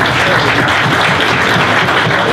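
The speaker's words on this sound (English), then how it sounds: "I think that deserves a round of applause." A dense, steady burst of audience applause fills the room at a Cheltenham 2019 racing preview event, loud and continuous with no gaps.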